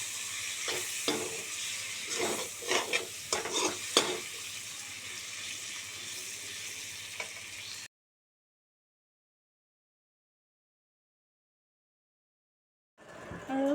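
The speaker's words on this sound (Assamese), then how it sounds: "বিলাহীখিনিও এনেকৈ ফ্ৰাই কৰি ল'ম" Tomatoes frying with spices for paneer curry, a quiet hiss broken by scattered scraping stirs for several seconds, then silence before a brief sizzle returns at the end.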